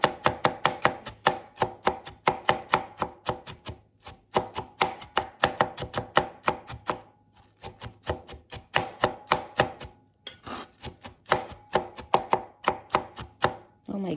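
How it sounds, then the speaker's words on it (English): Walnuts chopped with a knife on a board, rapid even rhythmic thuds in close bursts with short pauses between runs, no talking. "evenly chop it"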